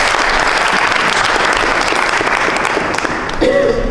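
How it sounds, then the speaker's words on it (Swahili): Loud, sustained applause from an audience at the closing day of a youth economic empowerment project event, dense and steady throughout with a voice mixed into the clapping. "Tuwapigie makofi."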